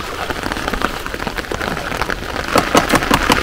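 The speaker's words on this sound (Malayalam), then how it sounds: "മഴ പെയ്തു, നല്ല മഴയാണ്." Heavy rain pours onto surfaces outdoors, a dense, loud, continuous patter of drops that grows slightly stronger toward the end.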